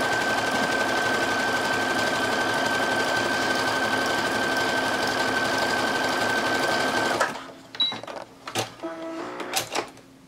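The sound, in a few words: sewing machine stitching picot elastic onto lingerie fabric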